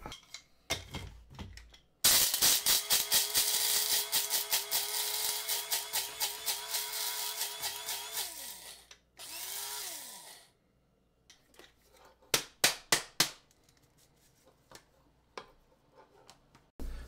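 A coffee grinder breaks beans down to a coarse French press grind, giving a loud, close whirring roar for about seven seconds, then a shorter burst, followed by a few sharp taps and clicks.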